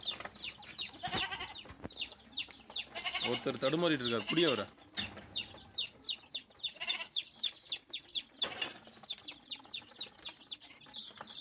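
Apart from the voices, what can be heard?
hens and chicks clucking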